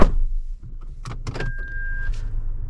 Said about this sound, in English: All 4 windows are auto up down.